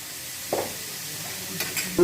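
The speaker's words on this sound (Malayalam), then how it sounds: "ഇളക്കിക്കൊണ്ടിരിക്കണം. ഉള്ളിയാണ് ഇടാൻ പോകുന്നത്." Onions frying in a pan for crab curry, a soft continuous sizzle with a handful of scraping stirs and light utensil knocks against the pan.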